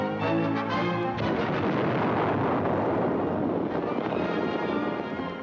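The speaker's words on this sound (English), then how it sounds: "800 men perish when the magazines explode." A 1945 newsreel recording of the British battleship Barham's magazines exploding after she capsizes, a loud, rolling, continuous roar that swells and sustains for several seconds with a boomy, dense rumble.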